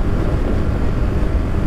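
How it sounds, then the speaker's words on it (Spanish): Strong wind blows near the sea at a coastal hill reserve, producing a loud, continuous roar and buffeting rumble across the microphone with no voices. "corre viento bien fuerte, ¿eh? Bien fuerte."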